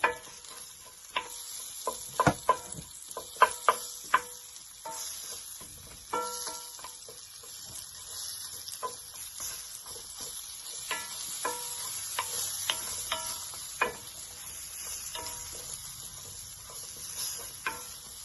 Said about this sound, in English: We're gonna saute our onions. Got the red and the white onions.